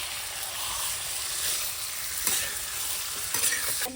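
Close, continuous sizzling of chicken frying in a pan with a couple of scraping stirs, no speech.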